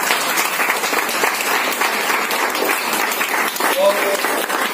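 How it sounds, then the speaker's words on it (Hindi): A crowd at an honouring ceremony applauds Mrs. Manju Bala, with continuous, fairly loud clapping throughout and voices mixed in. "सब लोग जो है श्रीमती मंजू बाला जी के लिए जोरदार तालियां बजाएं"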